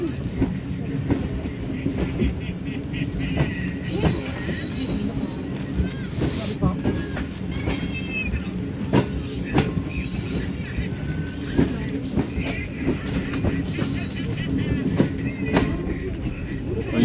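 A Subak Raftar railcar rolls along the tracks with a steady rumbling drone, rhythmic wheel clatter and occasional squeals, heard from inside and continuing throughout.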